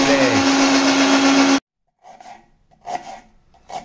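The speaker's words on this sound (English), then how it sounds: "Now masala grinding" A mixer grinder grinds masala for chutney with a loud, steady whirring drone that cuts off abruptly after about a second and a half, followed by a voice speaking.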